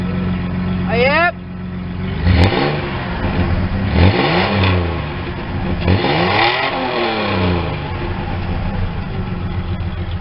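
A car engine revs up several times in strong surging bursts, roaring loud and close, with a brief rising whine at the start.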